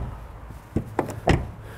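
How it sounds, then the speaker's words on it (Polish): A Jaguar XF car door shutting, a few soft dull thuds close by, the last one the heaviest, over a quiet low background hum. "skoro zobaczcie, jak zamykają się drzwi."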